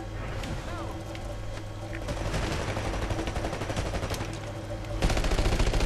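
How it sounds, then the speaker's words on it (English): Gunfire in an online multiplayer shooter, with dense bursts of rapid automatic shots and a louder volley near the end, under game noise and a voice talking. "Oh shit, I'm shooting my fucking teammate."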